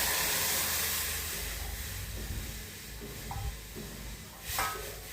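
Pithla, a gram flour mixture with garlic, curry leaves and chilli, cooks in a pan as a broad steady sizzle and hiss, with a few soft stirring scrapes near the end.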